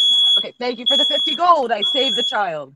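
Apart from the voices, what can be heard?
fire alarm beeping in a house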